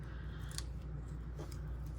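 Scissors make several quick, crisp snips while cutting material for a resin frog craft, close and distinct over a low background hum.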